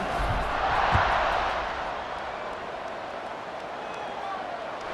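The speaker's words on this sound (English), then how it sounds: "this crowd now ready to get behind them" A stadium crowd in a college football video game, Bowling Green against Toledo, swells into a roar at the kickoff and then settles into a steady, distant hum of cheering.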